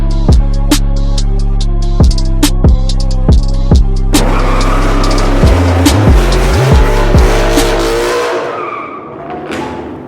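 A car is started and pulled out of its spot, heard close and loud. Sharp clicks and clatters ring out over a steady engine drone, then the engine note shifts and wavers as it moves and fades slightly at the end.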